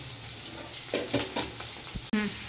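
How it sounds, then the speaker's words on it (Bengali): A short burst of food sizzling gently in a pan, with a few soft clatters of stirring and a sharp clink near the end. "খুব বেশি ভাজবো না, হালকা হালকা করে ভেজে নেব"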